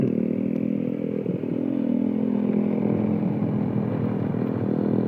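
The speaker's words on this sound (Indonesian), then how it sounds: "Saya pakai motor matic, jadi takutnya" An automatic scooter motorcycle climbs a steep, extreme road. Its engine drones steadily and loudly up close, a continuous rough hum with no pauses and no talk.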